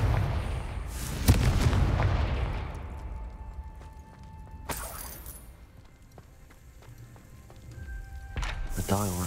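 Booming blasts from the Confringo explosion spell in the Hogwarts Legacy video game, with a loud burst, crackling debris and a later second blast, while a voice talks over part of it.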